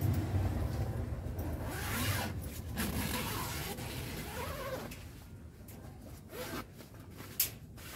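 Zipper being pulled open along the fabric cover of a budget rooftop car tent, a continuous rasping run over several seconds with a few short tugs and a sharp snag near the end, close and fairly quiet.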